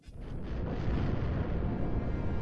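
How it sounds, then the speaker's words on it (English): An explosion in the Knights of the Old Republic game bursts in at the start and swells into a sustained, loud, rumbling roar that holds without fading, with no talking. "And we got the explosion we were looking for."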